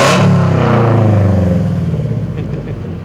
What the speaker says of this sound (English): I'll give you a little rev here, make how it sounds.